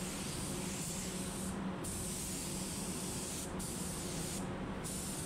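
Steady, continuous hiss of a spray gun applying base coat paint, loud and close, with a few brief pauses in the spray.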